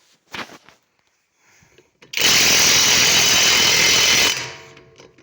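A Yato YT-828071 impact wrench hammers on a tightly fastened bolt in one loud, rapid rattling burst of about two seconds, preceded by brief faint handling knocks.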